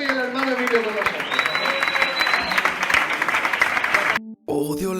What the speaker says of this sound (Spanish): Un fuerte aplauso y el hermano Emilio con nosotros.